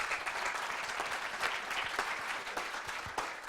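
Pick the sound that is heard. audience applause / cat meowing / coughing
audience applause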